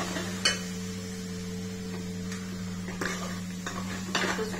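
Potatoes and masala are stirred in a cooking pan, giving scattered metallic scrapes and clinks of a spoon against the pan over a steady low hum of the kitchen, with no talking.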